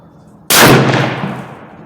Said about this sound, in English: I'm just gonna take one more shot because I think I pulled the last shot.